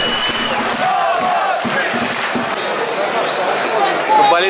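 Football fans at a Russian Premier League stadium in Tula cheer and shout for their team after the final home match of Arsenal against Krasnodar, a loud, continuous crowd roar with whoops rising near the end.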